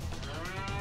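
Cattle mooing on a farm, one sustained low bovine call running through the whole short stretch, steady and fairly close with no talk over it.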